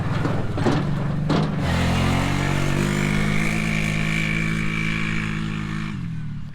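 Engine of a four-wheeler carrying a soil sampling rig and laptop, driving across a farm field: a steady, loud motor drone with harmonic hum that holds even, then cuts off near the end.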